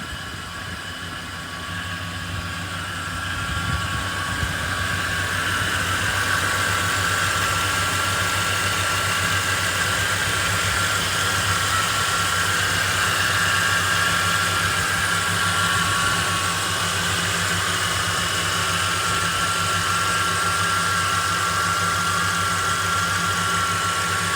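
A 2012 Ford F-350 dually service truck with a 6.2 liter V8 gasoline engine idles close by, a steady low rumble that swells slightly in the first few seconds and then holds even and continuous.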